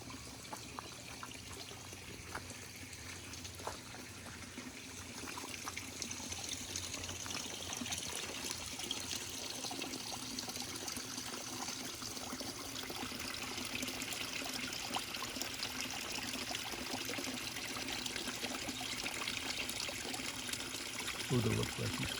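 A little creek flows through a garden trail, a soft, continuous trickling and burbling of water, fairly faint and steady, with light outdoor background noise.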